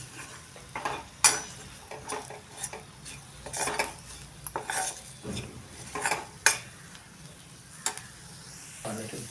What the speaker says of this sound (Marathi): बेसन आपलं चांगलं कच्चापणा कमी होईपर्यंत ह्या मसाल्यामध्ये परतून घेऊया